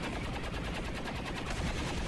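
XCOM 2 combat gunfire, rendered as a faint but steady rattle of rapid automatic shots across the whole short stretch.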